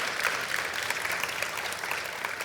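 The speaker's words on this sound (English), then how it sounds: "Round of applause." Audience applause at the close of a game developer presentation, a steady sustained wash of clapping from a crowd with no talk over it.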